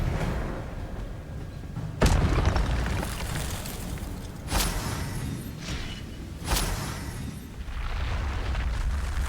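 Expelliarmus spell effects from the Hogwarts Legacy video game: three sharp, booming bursts with a whooshing tail, spaced a couple of seconds apart over a steady, dense background rumble.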